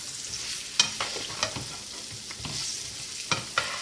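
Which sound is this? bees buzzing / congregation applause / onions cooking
onions cooking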